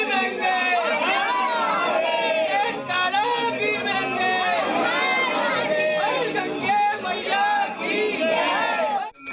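A crowd of devotees gathered at a Hanuman temple fills the air with dense overlapping chatter and raised voices, with shouts and children's cries rising out of the steady murmur.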